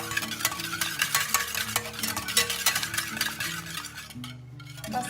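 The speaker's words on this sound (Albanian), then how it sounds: "Përziem derisa sheqeri të shkrihet." Sugar and vanilla sugar are stirred in a bowl until they dissolve, with quick, rhythmic scraping and swishing strokes close by, steady for several seconds before easing off near the end, with no talking.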